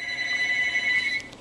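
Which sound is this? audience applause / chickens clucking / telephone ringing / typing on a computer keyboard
telephone ringing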